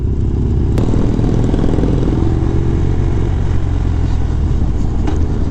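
A tiny little motorcycle on Arden Way in Sacramento, ridden during a charity ride, passes close by amid loud, steady engine and road noise, its motor droning throughout with a brief sharp clatter near the start.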